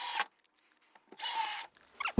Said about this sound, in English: I'm using the same Hillman Fasten Tight wood construction screws. They're 6 by 1 5/8 made out of yellow zinc.